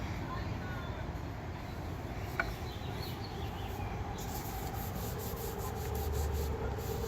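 Steady, soft scratchy rubbing of light sanding on a wood table finish with 280 or 320 grit, continuous and close, with a faint high insect-like hiss in the background.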